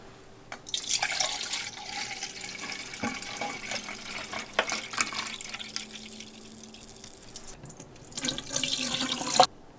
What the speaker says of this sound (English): we have to pour 1 pint of antifreeze in each side of our drain